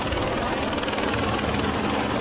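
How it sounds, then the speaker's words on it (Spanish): A helicopter flies over a fire site, its rotor thrumming loud and steady throughout, a dense broadband drone with a low engine rumble beneath and no talking. "Maquinaria pesada, además de helicópteros, trabajaban en conjunto."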